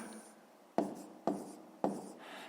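Numbers written by hand during a fifth-grade math exercise: three sharp pen taps or strokes on paper, each followed by a brief scratch, spaced about half a second apart, close and quiet.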